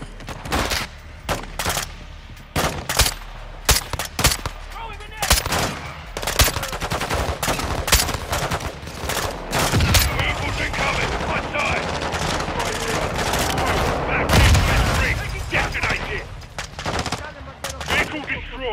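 Dense gunfire from the Call of Duty Modern Warfare II campaign, Prison Break mission: rapid bursts of automatic weapons fire and sharp single shots, loud and continuous, with heavier rumbling blasts in the middle stretch.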